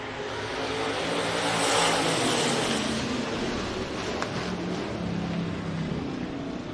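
Hobby stock race cars roaring around a speedway oval in a heat race, a broad wash of engine noise from several cars swelling as they pass and fading slightly, steady and moderately distant.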